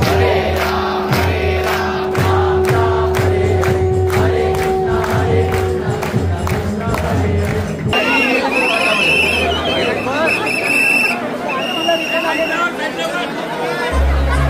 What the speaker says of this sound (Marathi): किती गर्दी आहे भाई.